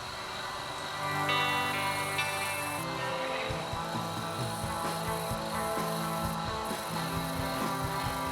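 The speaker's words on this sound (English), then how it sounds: "The handy spindle sander." An electric spindle sander grinds against a wooden guitar body, a steady motor hum under rough, continuous rasping that shifts as the wood is pressed and moved along the spinning drum.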